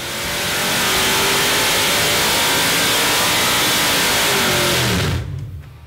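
A supercharged Ford 7.3 Godzilla V8 with a Harrop TVS2650 blower at about 12.5 psi of boost roars loud and sustained on a dyno, then cuts off sharply near the end and leaves a fading rumble.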